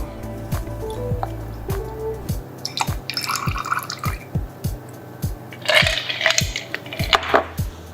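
Cocktail poured from a shaker into a martini glass at a gala bar, with repeated low drips and splashes, then a brighter burst of liquid and clinking near the end.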